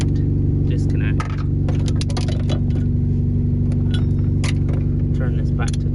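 A Mazda Miata MX5, which had trouble starting because of a faulty battery, idles steadily up close after starting. Its even mid-low engine hum carries throughout, with some clicks and rattles on top.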